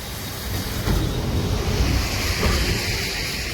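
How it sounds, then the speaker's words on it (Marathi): Monsoon floodwater surging down a swollen river at Sangameshwar in the Konkan, beside an old bridge on the Mumbai–Goa highway, makes a steady, broad rushing roar, with wind buffeting the microphone throughout. "नदीला पाणी बघा किती आलंय"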